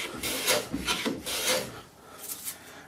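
A hand plane takes the finest shavings off a wooden board in a few smooth, breathy rasping strokes, close and moderately loud, with no one talking.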